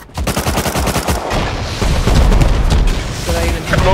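Rapid gunfire in the video game Rust, loud continuous bursts of automatic shots and booming impacts filling the whole stretch, with players talking over it.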